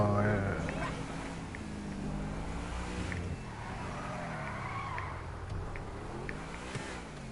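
Car driving in GTA V on PS4, engine drone with tyre skid squeals, steady and moderately loud, with someone talking over it.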